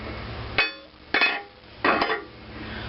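Three sharp metallic clanks ring out about half a second apart, a big hammer striking metal up close during disassembly of an antique IHC engine.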